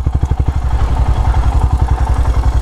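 A motorcycle engine thumps in a fast, even rhythm on a muddy hill road in Sikkim, loud and close, with a rattling clatter over the beat.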